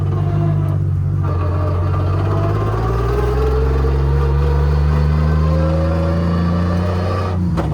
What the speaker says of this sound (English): Gearbox not sounding the most healthy down low speeds